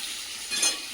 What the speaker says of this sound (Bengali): মাংসের আলুগুলো ভেজে নিচ্ছি